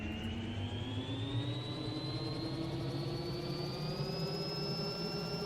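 Robinson R66 turbine helicopter engine spooling up in a flight simulator, a steady loud turbine whine with a rising high tone and constant low rumble throughout.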